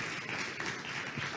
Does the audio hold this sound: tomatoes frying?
no